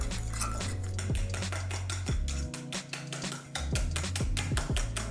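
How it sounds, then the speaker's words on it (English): Utensil scraping and tapping against a bowl while oat and yogurt pancake batter is stirred, with quick rhythmic clinks over a faint low background hum. "Add your finely blended oats and mix it all together."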